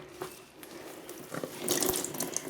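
Water running and splashing in a bathtub as a soaked wool plush toy is squeezed out, a faint trickle building into louder gushes toward the end.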